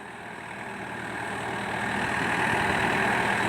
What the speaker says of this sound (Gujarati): આ ભાઠા જેવું ટ્રેક્ટર છે